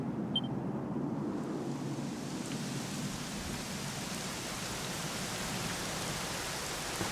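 Steady rain falls in the video game Dragon Quest XI, a soft, even hiss with a low rumbling undertone that continues unbroken without speech.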